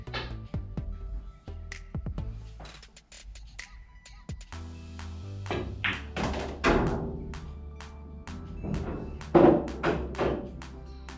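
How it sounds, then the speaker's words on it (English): A cue ball struck on a pool table during a side pocket position play drill, several sharp clicks and thuds scattered through the clip, with softer ball knocks and a quiet voice between them. "you're gonna strike a cue ball with top right with a quarter ball hit"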